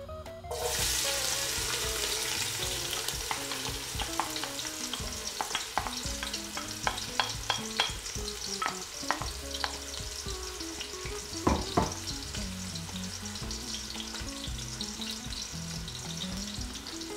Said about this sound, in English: We're going to add the onions now to this.